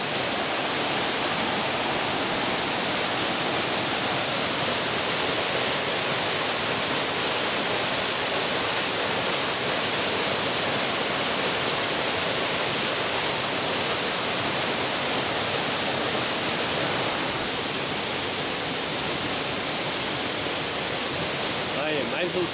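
A waterfall on a rappelling outing roars as a dense, continuous rush of falling water, loud and unbroken throughout, with no clear talk above it.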